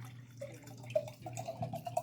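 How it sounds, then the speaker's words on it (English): Water is poured into a cold brew infusion jug in a kitchen, giving a brief, soft trickle with faint dripping tones, close by and gentle, with no talking. "So we are going to pour our water in there."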